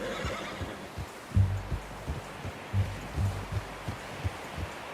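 A horse in the video game Red Dead Redemption 2 gives a whinny, with dull hoof thuds and soft rustling around it at close range and no speech.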